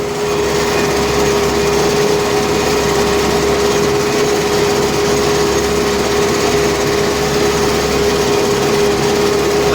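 A loud, constant MTZ tractor engine drone while ploughing a field, with a steady hum and rough low rumble, close by and unbroken for the whole stretch, no talking.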